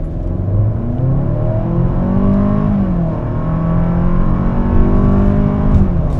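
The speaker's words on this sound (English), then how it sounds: "You can definitely hear this Turbo 4 working for it to move the weight of this vehicle." Turbocharged four-cylinder engine in a 2027 Kia Telluride X-Pro SX Prestige SUV pulling hard from a stop, a loud, strained drone rising steadily in pitch with road and tire noise underneath.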